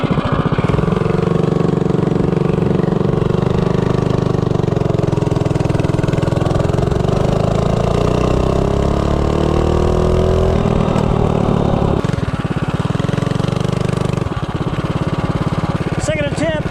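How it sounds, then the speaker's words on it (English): A 212 Ghost small engine fitted with a Slipstream flywheel accelerates from 0 to 30, a loud close-up droning roar with rising pitch that holds steady, then wavers and cuts out near the end. "Second attempt, 0 to 30, Slipstream flywheel, 212 Ghost."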